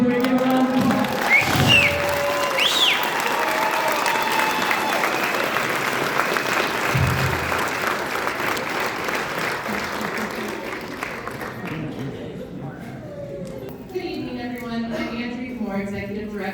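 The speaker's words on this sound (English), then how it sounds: "Give a round of applause." Sustained applause from a graduation ceremony audience, dense and steady across the room with scattered cheers early on, fading as a speaker's voice takes over near the end.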